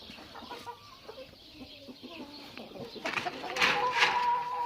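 Chickens in a backyard coop cluck softly and intermittently, with short pecking and shuffling noises, growing a little louder and busier near the end.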